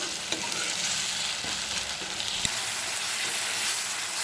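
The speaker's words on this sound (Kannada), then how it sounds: "ಈ ಮಸಾಲೆ ಚೆನ್ನಾಗಿ ಫ್ರೈ ಆಗಲಿ." Masala fries in a pan for a lady's finger khurma, giving a continuous gentle sizzle with occasional light stirring taps and a single sharp knock, with no talking.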